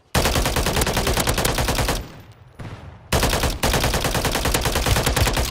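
Rapid automatic gunfire from Call of Duty Modern Warfare 3, loud and continuous bursts with a brief pause midway before the firing resumes at full intensity.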